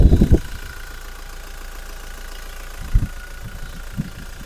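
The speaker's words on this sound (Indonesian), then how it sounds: "Ini suara mesinnya." A car engine idles with a steady low rumble, punctuated by a few louder thumps and knocks near the start and later on.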